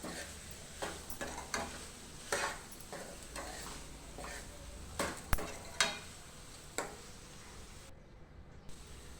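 Chili powder cooks in hot oil with a soft, continuous sizzle, while a spoon scrapes and taps against the pan every so often, no one speaking.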